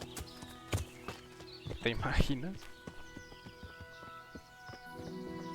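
A horse ridden in the video game Kingdom Come Deliverance clip-clops with steady hoofbeats under someone talking, along with game music and ambient sounds.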